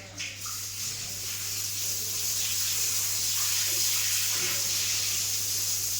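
Water poured and spread across a house floor during washing, a continuous rushing splash with a low steady hum underneath, close and fairly loud.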